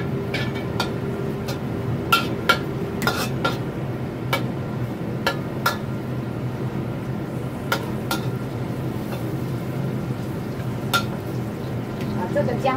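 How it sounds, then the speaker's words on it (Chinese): Ginger slices frying gently over moderate heat in a pan while cooking three-cup king oyster mushrooms, a steady soft sizzle with scattered clinks of utensils against cookware, a voice talking faintly underneath. "然后把姜片放下去"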